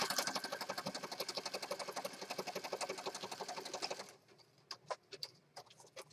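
Sewing machine stitching around pages of a peacock-themed handmade journal, a fast rhythmic mechanical clatter that runs steadily for about four seconds, then stops, leaving a few scattered clicks and taps.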